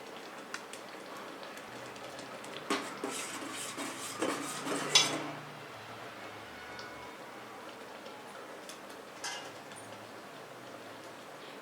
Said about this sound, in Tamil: இப்போது 3 ஏலக்காய் இடித்து சேர்த்துக்கலாம்